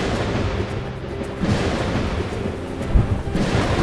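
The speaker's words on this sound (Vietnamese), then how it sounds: "Mưa rừng to quá, nhanh lên em." Heavy rain pours in a forest, a dense steady wash, with deep rolling thunder booming in, loud and close, in an animated film; no talking.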